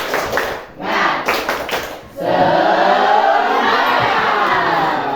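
A classroom group of high school students at SMA Negeri 5 Tanjung claps rhythmically in a spirit chant, the quick bursts breaking into loud, sustained cheering and shouting from the whole crowd.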